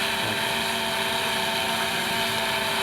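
DJI Phantom 2 Vision+ quadcopter coming in to land, its rotors giving a steady, loud whirring buzz that holds constant throughout, close by and uninterrupted.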